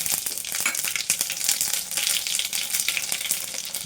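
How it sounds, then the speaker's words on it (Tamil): Mustard seeds, fenugreek and fennel sizzling in hot oil while cooking cumin kuzhambu, a steady close crackle of popping seeds with sharp little bursts throughout, heard alone. "எண்ணெய் ஊற்றி தேவையான அளவுக்கு கடுகு போட்டுக்கோங்க"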